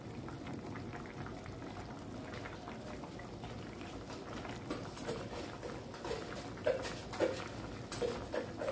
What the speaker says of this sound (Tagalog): Continue tayo sa pagpapakulo.